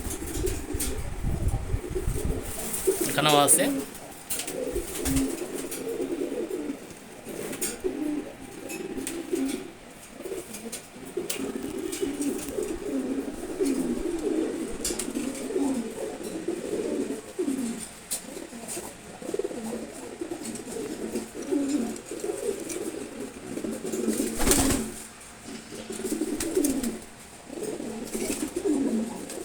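Pigeons coo steadily in a loft built to hold about fifty birds, a soft layered chorus of throaty calls carrying on throughout, with a brief voice speaking once near the start.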